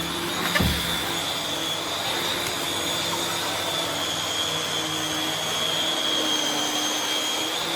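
Vacuum cleaner with swivel steering running over carpet, a continuous close whine and airy roar holding steady throughout with a small bump early on.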